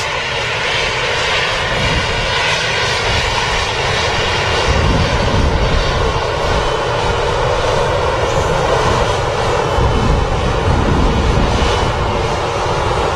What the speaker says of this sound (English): the Air France enters the active on its way to Paris.